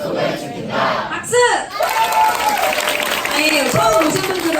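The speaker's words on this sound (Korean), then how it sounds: "박수!" An audience at a beauty creator academy gathering breaks into loud cheering and shouting with applause, a rousing crowd roar that swells and holds close and strong.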